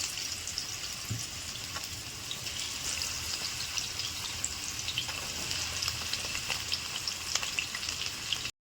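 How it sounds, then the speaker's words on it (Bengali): Marinated meat frying in a hot wok (kadai), a steady close sizzle with faint crackles and occasional stirring scrapes, no voices. "এদিকে আমার কড়া গরম হয়ে গেছে এবারে আমি হালকা হালকা মাংসগুলো একটু ভেজে নেব"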